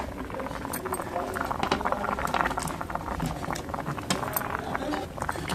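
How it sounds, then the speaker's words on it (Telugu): Sambar with drumstick pieces and lentils bubbling in a pot, a steady soft patter of boiling liquid throughout at close range, with no talking. "ఈ సాంబార్ మరిగేటప్పుడు ఇలా మనం కట్ చేసిన పీసులన్నీ కూడా వేసేసుకుందాం."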